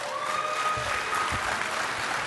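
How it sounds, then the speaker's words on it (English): Audience applause fills a hall at the DEF CON hacking conference, a steady broadband wash of clapping throughout with a few faint tones above it. "That is a lame round of applause."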